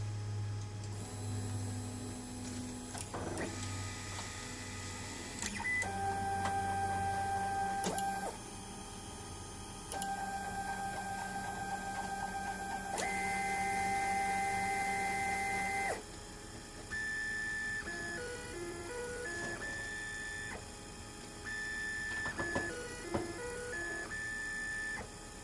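A machine runs a dry run with faster moves, its motors sounding steady, tonal whines that change pitch in distinct stepped segments, with small ticks and clicks between moves and no talk.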